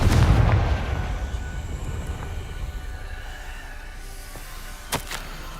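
A Confringo blasting spell in the Hogwarts Legacy game sets off a loud, booming explosion at the very start, then a long rumbling decay. A sharp crack sounds near the end.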